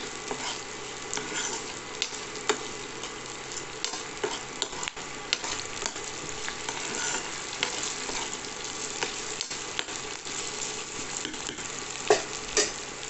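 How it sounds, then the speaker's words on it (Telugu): Bottle gourd curry with ginger garlic paste fries and gets stirred in a pan, giving a steady close sizzle broken by scattered scraping clicks of the spoon, with no talking. "ఇప్పుడు మగ్గాక జింజర్ గార్లిక్ పేస్ట్ వేసి ఒకసారి కలపండి."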